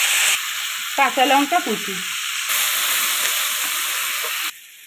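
Onions and chopped tomato sizzle in hot oil in a home kitchen, a steady broadband frying hiss throughout with a spoon stirring briefly, while a voice speaks over it early on.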